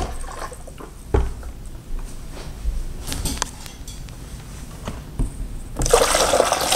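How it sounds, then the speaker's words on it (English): Water is poured into the pump reservoir of a groundwater model simulator, a soft trickling and splashing with light knocks, growing louder into a strong gush at the end. "you want to put water in the back of the pump reservoir to prime the pump"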